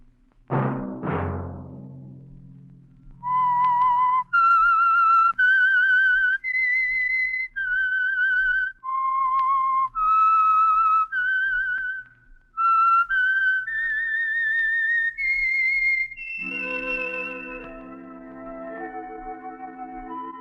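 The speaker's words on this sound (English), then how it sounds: "Let that whistle be your signal for the Signal Oil program, The Whistler" Whistled theme tune of The Whistler radio program, a clear solo melody of sustained whistled notes rising and falling in phrases, following a brief low musical sting, with a soft orchestral chord entering near the end.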